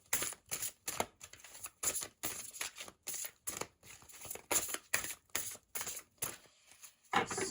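Oracle cards shuffled by hand for a Sagittarius reading, a steady run of quick papery riffles and flicks in irregular bursts, close and fairly quiet, with no talking.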